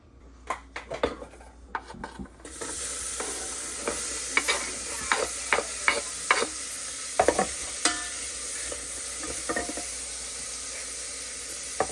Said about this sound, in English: Go ahead and saute the onions first.